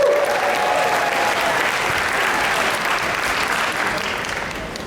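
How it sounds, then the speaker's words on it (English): Crowd applause at a season pass member preview event, a dense, steady wash of clapping with some cheering that holds strong throughout and tapers only slightly near the end. "Round of applause for our pass holders"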